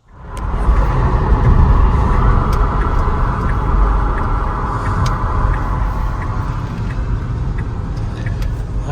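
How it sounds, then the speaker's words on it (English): A 2015 Tesla Model S 70D cruising through curves, giving a steady low road rumble and tyre noise throughout, fairly loud and continuous with no engine roar. "It's so much fun to drive around the curves like this."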